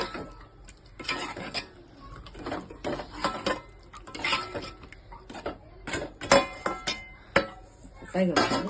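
A utensil clinks and scrapes against a pan while curry with eggs is stirred, giving short irregular metallic taps close by, with a person talking over it.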